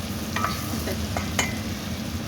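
Tomatoes stirred and sautéed in a pan after ginger powder, a steady sizzle of frying with a few scraping stirs of a utensil, close and continuous, no talk.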